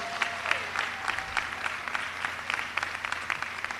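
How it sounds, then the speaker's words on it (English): Crowd clapping at a community center ribbon cutting, a moderate patter of hands with a few louder claps, a voice briefly audible underneath. "Let's clap it up for Umoja Events."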